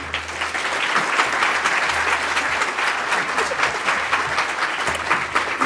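An audience at the City Club of Cleveland applauds warmly to welcome Dr. Kathryn Edin, with steady, even clapping filling the room throughout and no voices over it.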